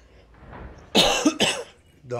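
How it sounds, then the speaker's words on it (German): Two sharp, close coughs, heard on their own with near silence before them and a brief vocal sound at the end. "Da hustet's mich."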